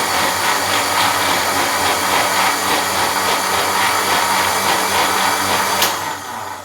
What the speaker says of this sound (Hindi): इसमें आप तकरीबन 1 to 2 table spoon sugar add कर लें और इसे दोबारा ग्राइंड करें अच्छी तरह।